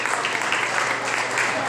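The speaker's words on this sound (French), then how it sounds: "On l'applaudit fort, s'il vous plaît." Audience applause at a school spelling bee, a dense continuous patter of clapping throughout, fairly loud and close, with voices mixed in.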